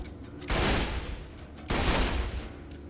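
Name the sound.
Sledge's Shotgun double-tap firing in video game Borderlands 2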